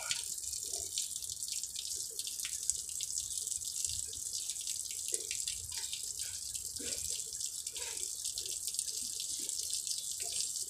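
Water leaking from a Mercedes-Benz Actros 1841 automatic truck near the retarder, a steady hissing spray with irregular splashes and drips over a constant background, no one talking.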